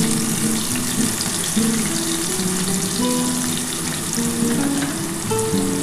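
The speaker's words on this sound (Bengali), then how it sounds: "একটু পেঁয়াজটা একটুখানি ভাজা হয়ে গেলে, খুব বেশি ভাজবো না, একটু হালকা করে ভেজে তারপর কিন্তু আমি আলুটা দিয়ে দেবো" Onions fry in a pan for a spicy potato and katla fish head curry, producing a loud, continuous, dense sizzle that stays close and unbroken throughout.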